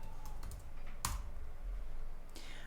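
Computer keyboard typing, a few soft quick keystrokes and one louder click, close and quiet with no speech.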